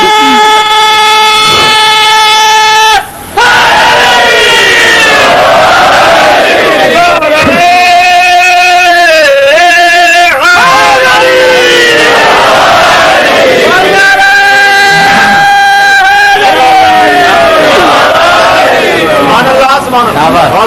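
Loud crowd at a Shia religious majlis for Yom e Maula Imam Hussain, chanting slogans in unison: repeated rhythmic shouted calls from many voices, close and continuous, with a brief pause near the start.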